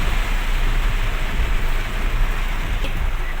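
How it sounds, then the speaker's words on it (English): Heavy rain pours on a palm oil farm, a dense, loud, steady hiss of drops hitting surfaces with a low rumbling undertone, continuous throughout. "Now this is what I call a heavy rain."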